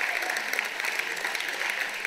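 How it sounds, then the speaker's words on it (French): Church congregation applauding after music at a worship service, a dense, even sheet of clapping from many hands that holds at steady volume from start to finish. "on peut l'applaudir"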